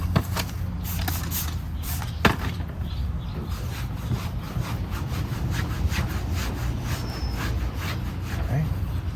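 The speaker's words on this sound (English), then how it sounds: "we're gonna use some IPA and a microfiber and just wipe down" Repeated rubbing strokes of a microfiber cloth dampened with IPA wiping down car paint after old stone guard or vinyl removal, a steady close scrubbing texture throughout with faint background noise.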